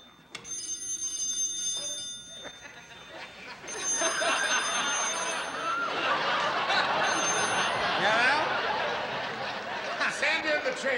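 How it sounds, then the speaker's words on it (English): In a comedy sketch, a telephone rings in several bright, repeated bursts, with studio audience chuckles and laughter swelling around them. "the phone rings"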